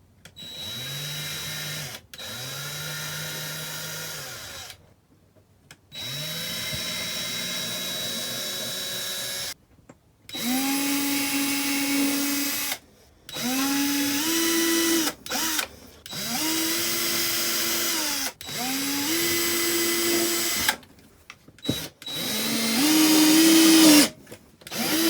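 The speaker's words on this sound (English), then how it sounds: "drill the holes for these screws and hope it doesn't go all the way through" A power drill boring screw holes while fitting a table inside a motorhome, running in repeated bursts of several seconds each with short pauses between, its whine rising in pitch as each hole progresses; close and loud, with no talk.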